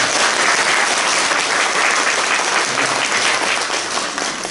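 A church congregation applauds warmly for a newlywed couple during a Sunday service, loud, dense and sustained clapping filling the hall without a break.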